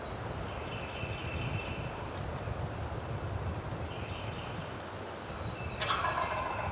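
A wild turkey gobbles in the distance at dawn in the woods, two rough rattling calls spaced a few seconds apart, the second sharper and louder, over a steady outdoor background hiss.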